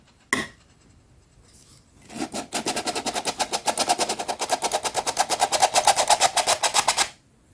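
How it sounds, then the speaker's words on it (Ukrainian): Flour is sifted through a sieve, making a rapid run of rhythmic scratchy taps for about five seconds after a single sharp knock, close and fairly loud, with no talking. "Беремо 170 грамів борошна, розсіємо."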